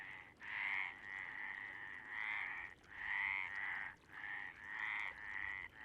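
Frogs croaking at a lake in mating season, loud rhythmic bursts of rasping calls close by, repeating in pulses with brief gaps between.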